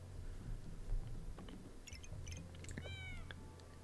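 Cat meows in the game Backpack Battles: two or three short rising-and-falling mews, soft and faint, near the end over quiet low background noise, preceded by scattered brief clicks.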